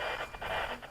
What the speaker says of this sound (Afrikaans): So almal van julle kan hoor hoe klink 'n satelliet.